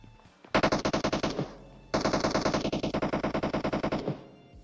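Automatic gunfire in the PUBG video game: two long, rapid bursts of loud, close shots, a brief pause between them, with no talking.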